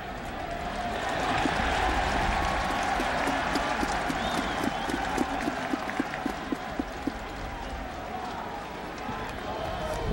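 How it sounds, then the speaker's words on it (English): At a 2002 Miami vs Rutgers college football game, Rutgers players clap amid a broad stadium crowd roar, with sharper individual claps standing out in the second half. "Rutgers players are clapping"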